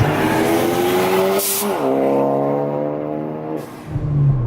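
A 2015 Ford Focus ST accelerating hard after a clutch launch, the engine note climbing steadily through the revs with a gear change midway, loud and close, then easing off briefly before pulling again.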